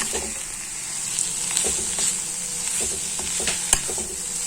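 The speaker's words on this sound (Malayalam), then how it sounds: "നന്നായിട്ടൊന്ന് ഫ്രൈ ചെയ്തെടുക്കാം." Clam meat fries in a pan with a steady, close sizzle, broken by a few light scrapes and taps as it is stirred; no voices.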